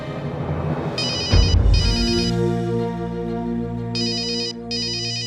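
A telephone rings in two short electronic bursts, pauses, then rings twice more, loud and close over a steady low hum.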